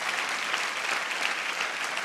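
A church congregation bursts into loud, dense clapping, a steady, close wall of applause for God with no talk over it.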